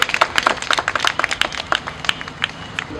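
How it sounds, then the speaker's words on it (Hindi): Lively applause from a crowd at a Delhi Police Week event, a dense, steady patter of many hands clapping together for about three seconds without a break. "एक बार पहला के लिए ताली जोरदार"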